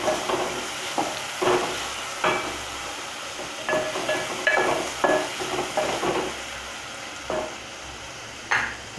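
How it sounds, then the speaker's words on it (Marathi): Chopped tomatoes are stirred into a sizzling prawn biryani masala in a pan, a steady frying hiss with a spoon scraping and knocking against the pan at irregular intervals, close and moderately loud, with no talking. "आणि मिक्स करायचे."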